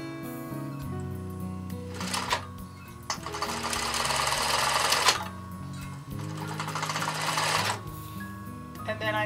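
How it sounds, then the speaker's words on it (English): Sewing machine stitching fleece for a heat pack, running in several sustained bursts of steady mechanical whirring with brief pauses between them, close and fairly loud, with a faint low hum underneath. "then I'm just going to sew it."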